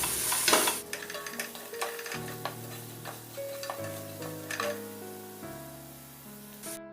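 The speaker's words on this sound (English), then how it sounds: "Stir them well. Otherwise ginger garlic paste will stick to the vessel, so keep stirring." Ginger garlic paste frying in a vessel over a low flame, stirred with a spoon that clinks and scrapes against the metal while a soft sizzle runs underneath, with music playing.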